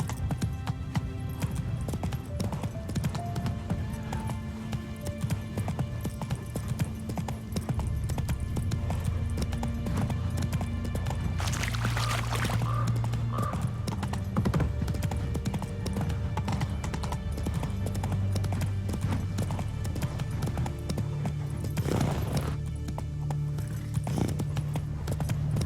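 Roach, the horse in The Witcher 3, gallops in a steady stream of hoof clip-clops beneath constant game music and ambience, with a brief whinny partway through and a rider's voice urging it on.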